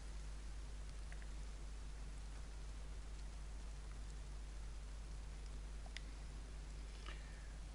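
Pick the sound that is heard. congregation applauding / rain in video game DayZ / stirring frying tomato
rain in video game DayZ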